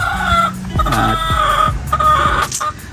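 A gamecock rooster crows and clucks up close, loud throaty calls with short clucking bursts in quick succession against outdoor background noise, with no talking.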